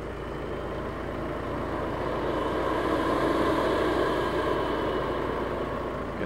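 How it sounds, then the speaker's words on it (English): A VW/Audi engine cooling fan spins during a diagnostic test, giving a steady, broad whooshing drone that swells slightly midway and holds at an even level throughout, with no talking. "You can hear that fan is spinning"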